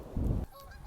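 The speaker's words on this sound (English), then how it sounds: "A flock of geese." A burst of goose honking close by near a lake, followed by fainter calls fading against quiet outdoor background in February.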